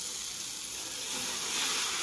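Egg dosa batter for a double egg dosa sizzles on a hot pan, a steady close hiss with soft crackle that grows slightly louder toward the end, no voices.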